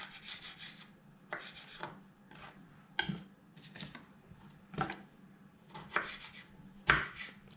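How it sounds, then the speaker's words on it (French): A knife cuts cherry tomatoes into thin rounds on a board, quiet close taps and soft slicing strokes in an uneven rhythm of about a dozen cuts. "on va venir prendre les petites tomates cerises et on les coupe en petites rondelles"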